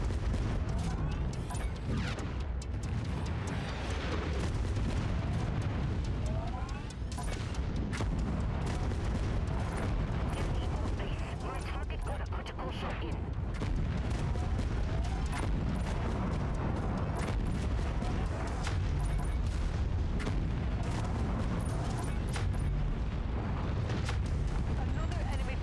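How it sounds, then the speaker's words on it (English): Heavy artillery shells in MechWarrior 5: Mercenaries, loud booming blasts and rumbling impacts landing one after another across a sustained battle din, with a voice speaking over parts of it. "Don't love the artillery right now."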